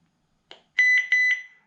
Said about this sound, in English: we heard the beep